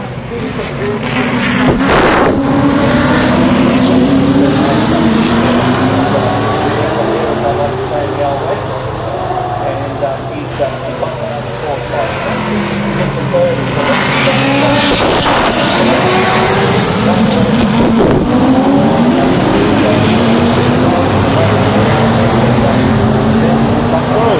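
Touring Car Masters race cars roar past at the Adelaide Clipsal 500, loud engines rising and falling in repeated sweeping passes under a commentator's voice.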